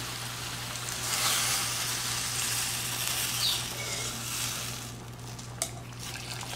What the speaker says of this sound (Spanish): Ahora le voy a estar agregando el caldo de camarón para dejar remojando los chiles.